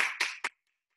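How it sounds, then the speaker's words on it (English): Martial arts students in an at-home black belt workout give a few quick claps, three short bursts close together that stop abruptly and leave silence. "Give some applause."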